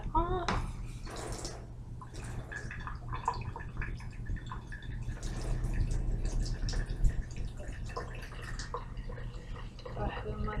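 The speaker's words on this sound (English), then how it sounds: "go ahead and rinse that off." Water from a tap runs and drips while something is rinsed off, a faint trickling and splashing with a steady low hum underneath, and a voice talks quietly over it.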